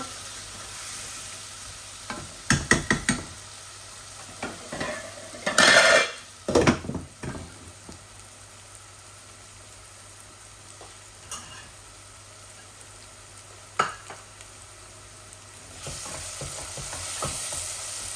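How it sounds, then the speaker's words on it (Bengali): Onions and tomato fry in a pan while a utensil stirs them, giving a steady sizzle broken by scattered scraping clatters, with a few louder stirring knocks early on and a quieter stretch in the middle. "আমার পেঁয়াজগুলা লাল লাল হয়ে গেছে, ভাজা হয়ে গেছে আর কি।"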